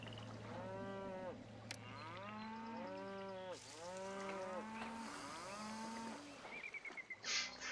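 Cows mooing in the video game Pharaoh, several long drawn-out lowing calls overlapping one another in a steady run, with no speech.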